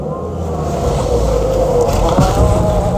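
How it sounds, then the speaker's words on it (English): A Ford Fiesta Mk4.5 pulling away on a drive, its engine and road noise a steady, loud drone close by, rising slightly as the small car gets going. "It's time to take the little Fiesta out for a little drive."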